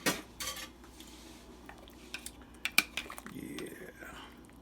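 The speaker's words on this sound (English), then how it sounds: "Let's give that a magical stir." A spoon clinks and scrapes against a pot of hot oxtail soup, with a few sharp metallic knocks over a low simmering background; close and fairly quiet.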